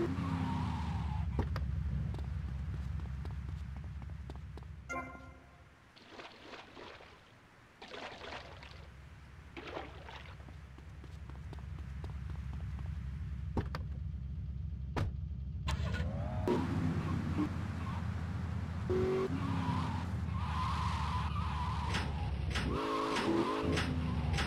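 The Banshee sports car drives in GTA Vice City Definitive Edition, with a steady engine hum, a lull, then revving, tyre skids and a few bumps, no talk.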